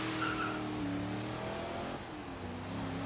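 A car in the Forza Horizon 3 racing game accelerates under a steady, loud engine drone whose pitch climbs through the gears, with a faint tire squeal and no voices.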